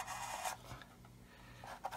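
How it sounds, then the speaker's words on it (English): A sanding block rubs back and forth across a hard plastic 1/35 scale model of a Buk missile vehicle, a few short quiet rasping strokes close by. "I'm just going to sand this"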